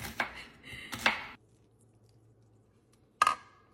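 An onion being chopped with a knife for cornbread dressing, heard as a few sharp, separate chops with quiet pauses between them, close and fairly loud.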